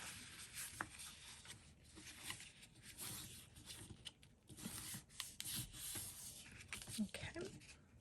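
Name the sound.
folding paper flaps of a mini file folder book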